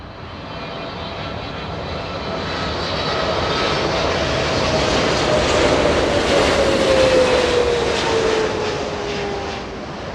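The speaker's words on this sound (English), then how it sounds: "An Italian A350 taxiing north on Kilo." An ITA Airways Airbus A350 jet taxies on an airport taxiway, its engines giving a steady, loud broadband roar with a slowly falling whine that swells toward the middle and holds to the end.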